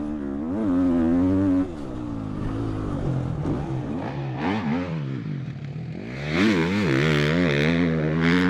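A two-stroke 350 dirt bike engine races around a motocross track, revving loudly and continuously with rising and falling pitch through the corners, climbing into a sharper, higher scream near the end.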